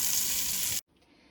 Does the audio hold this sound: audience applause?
no